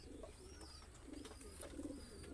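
Closed-tail Madrasi pigeons coo softly nearby, with low, rolling calls repeating in short bursts at a faint, quiet level.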